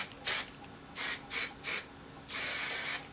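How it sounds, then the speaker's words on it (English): Hairspray is sprayed onto freshly curled hair in four short hissing bursts, followed by one longer sustained spray, close and crisp with no talking. "Hairspray one more time, baby girl."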